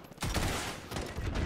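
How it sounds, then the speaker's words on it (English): Sustained automatic gunfire erupts in the video game Warzone, a loud, dense burst that starts abruptly and rattles on continuously with no talk over it. "Oh, I'm getting shot."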